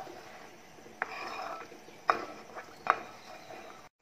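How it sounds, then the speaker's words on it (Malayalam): Kerala ada pradhaman being stirred in a pot: a few soft scraping knocks of a spoon against the pot over a low background hiss, quiet and close. "നമ്മൾ നല്ലതുപോലെ യോജിപ്പിച്ച് നമ്മൾ നന്നായി ഇളക്കിയെടുക്കുക"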